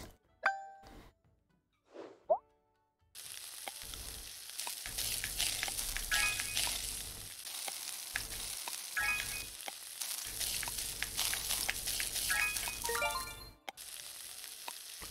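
Food being stirred in the cooking video game My Universe: Cooking Star Restaurant, with short chimes and clicks at the start, then a stretch of game sizzling and stirring effects broken by brief pauses and bright ding tones.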